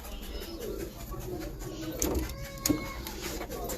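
Rooftop pigeons, including a Chinese hen, coo intermittently at moderate distance over a steady background hiss, with a couple of brief sharper notes.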